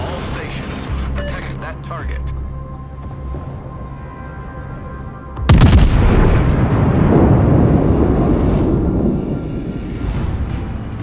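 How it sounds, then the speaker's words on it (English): Heavy naval gun salvo fired at an enemy warship in a naval combat video game: a sudden loud boom midway that rolls into a long rumbling decay, following a quieter stretch of engine drone and faint clicks. "Concentrate fire on the enemy warship."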